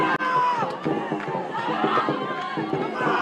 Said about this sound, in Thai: ช่วยกันเชียร์อาร์เจนตินาด้วยครับผม